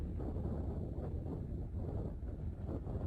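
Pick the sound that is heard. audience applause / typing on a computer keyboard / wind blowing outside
wind blowing outside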